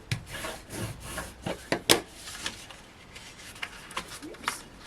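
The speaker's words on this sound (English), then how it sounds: "So what I'm going to do is just give this a nice burnish down, and then same again here." Hand burnishing of a Hunkydory luxury card topper during cardmaking: repeated close, soft rubbing and scraping strokes in short irregular bursts, with one sharper scrape near the middle, quiet and without talk.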